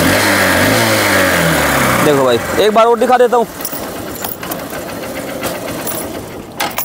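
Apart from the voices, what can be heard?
motorcycle engine starting and running after push start in gear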